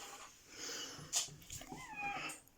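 A big pet cat indoors lets out faint, breathy meows and soft snuffling sounds, quiet and fairly close, with no speech over them.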